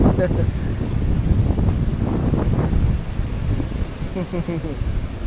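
Strong wind roars steadily across the microphone at a typhoon-battered campsite at night, with a continuous low rumble and gusty swells. Voices talk intermittently over it.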